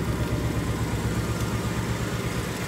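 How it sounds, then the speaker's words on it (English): A 2018 Ford Mustang GT idles close by, a steady, throbbing low rumble with a loud, even pulse and no talking over it. "I guess we can shut off the engine now"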